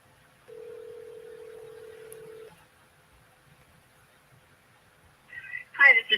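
A telephone is dialed: a steady tone for about two seconds, a quiet pause, then brief tone bursts and a voice answering near the end.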